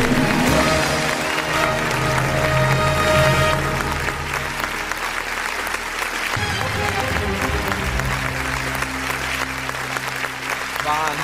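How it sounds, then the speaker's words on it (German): An audience applauds in the Wer Wird Millionär PC game, a long loud burst of clapping mixed with game-show music and tones, and it tapers slightly partway through. "Applaus."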